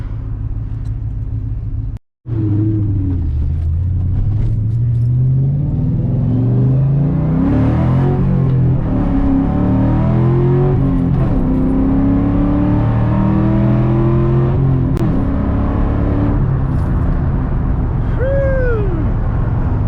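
A 2001 SVT Cobra with 4.10 gears accelerating hard, its engine note climbing through rising revs, dropping briefly at a gear change, then pulling up again loud and close from inside the car.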